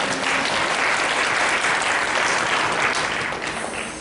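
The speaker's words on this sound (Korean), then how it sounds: "환영의 박수로." Loud, dense applause fills a church as the congregation welcomes visiting members, a steady roar of many hands that carries on throughout and eases slightly toward the end.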